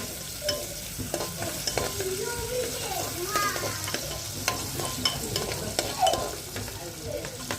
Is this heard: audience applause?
no